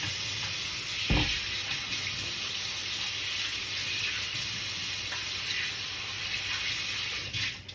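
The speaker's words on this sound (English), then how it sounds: "Let me wash my hands." Hands being washed under a running tap in a kitchen where pork chitterlings are being cleaned, with a steady close rush of water and one brief knock near the start, with no talk.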